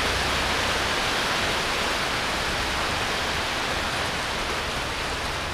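Rain falls steadily at a campsite near Pha Tat waterfall in Kanchanaburi, Thailand, as a loud, dense, unbroken hiss with no voices.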